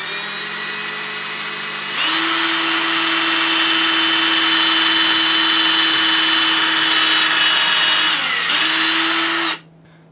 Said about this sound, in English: I'm going to take a drill and drill a hole in the neck of the top bottle